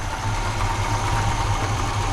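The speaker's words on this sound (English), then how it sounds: "It's idling pretty good." A Chevy C20 truck engine, brought back after years in storage, idles close by with a steady low rumble and faint rhythmic pulsing, and no talk.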